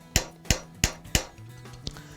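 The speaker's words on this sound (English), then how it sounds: "We're going to start by rotating the piece as we hammer it." A metal bracelet is hammered on a stake with a nylon hammer as the piece is rotated: four evenly spaced, sharp, close blows, each ringing briefly, followed by a lighter tap.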